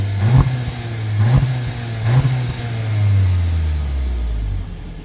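A Skoda Octavia RS 245 engine revs in sport mode, three sharp rising blips followed by a longer sustained rev that settles into a low rumble, close and fairly loud with no talk.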